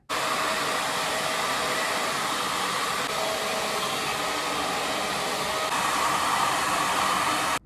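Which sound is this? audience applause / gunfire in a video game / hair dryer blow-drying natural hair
hair dryer blow-drying natural hair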